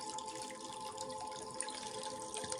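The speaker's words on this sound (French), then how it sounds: "le rythme de l'eau qui coule en prenant son temps" Water trickling and dripping at a gentle, steady pace, soft and close, with faint irregular splashes over a continuous flow.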